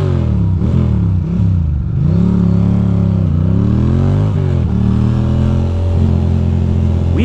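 Ducati motorcycle engine idling unevenly with suspected spark plug trouble, a close, loud, steady low rumble whose pitch sags and wavers irregularly, with light mechanical clatter and no talking.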